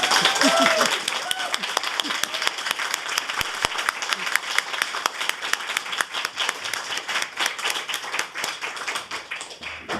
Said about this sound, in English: would you raise your glasses and please applaud the most wonderful Dr. Tracey Slaughter